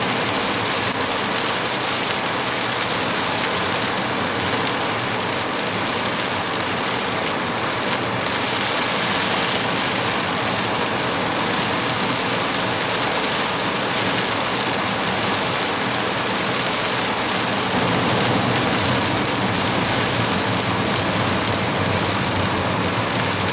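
Torrential rain pours steadily on a highway drive toward Hanmer Springs on New Zealand's South Island, a loud, dense, unbroken hiss filling the whole stretch with no voices.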